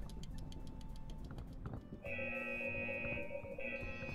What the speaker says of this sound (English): Okay, so I hear the alarm.